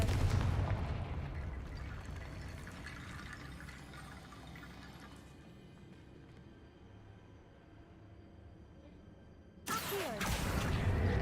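Confringo blasting spell cast in the Hogwarts Legacy video game: a loud fiery burst that decays into a long rumbling tail, followed by another sudden blast near the end.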